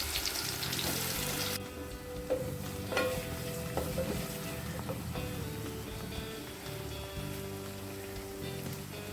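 Finely chopped onions sautéing in hot oil in a pan for a country crab gravy, a steady close sizzle with stirring scrapes and clinks throughout, no talking.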